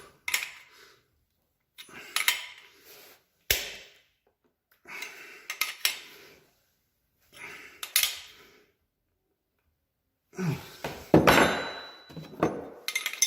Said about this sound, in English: I'll get my 3/4 half-inch spanner, make sure she's in, yeah, I'll tighten her up